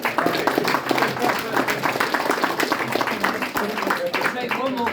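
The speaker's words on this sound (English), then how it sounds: "Give him a big round of applause." At a lawful remedy talk in Buxton, the audience gives a speaker a round of applause, steady clapping from a crowd that keeps going the whole time at moderate loudness.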